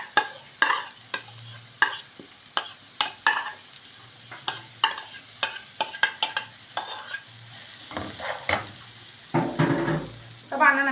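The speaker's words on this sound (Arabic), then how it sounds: "هنا عندي السمنه بتاعتي حميت اهي، هنزل عليها ببصلايه كبيره متقطعه" Large chopped onion frying in hot ghee and oil, a close sizzle broken by a series of sharp, rhythmic scraping strokes of a spoon against the pan.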